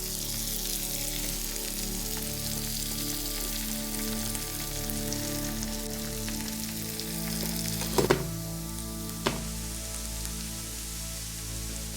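Onions caramelizing with butter in a pan, a continuous soft sizzle and crackle heard up close, with a couple of sharp utensil clinks near the end and no talking.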